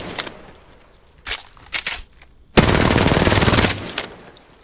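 Bursts of weapon fire in Apex Legends as a gun is sprayed against a wall: a few short separate shots, then a long loud continuous automatic stream that cuts off abruptly.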